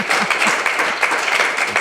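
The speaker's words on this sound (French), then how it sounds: "je crois qu'on peut vraiment encore une fois les applaudir et les remercier" A seated audience at a French talk on entrepreneurial comebacks after a startup claps for the speakers, a steady, fairly loud patter of many hands filling the short stretch without any talking.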